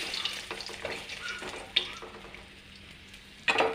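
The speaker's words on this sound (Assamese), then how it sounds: "মাছখিনি ভজা হৈ গ'ল। ৰঙাকৈ ভজা নাই, খৰযোৱাকৈ।" Fish frying in oil in a home kitchen, a soft steady sizzle with a few sharper clinks and stirring scrapes, fairly close and without talk.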